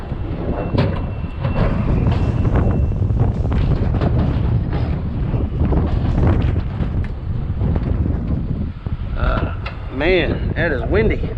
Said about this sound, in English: That is windy.